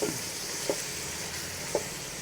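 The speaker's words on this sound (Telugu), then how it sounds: "పెరుగు మొత్తం ఇలా కలిసే విధంగా కలుపుకుంటూ వేయించుకోవాలి." Yogurt with tomato and ginger-garlic paste sizzles steadily in a pan for chicken biryani, with a constant close frying hiss and three soft scraping strokes of a stirring spoon.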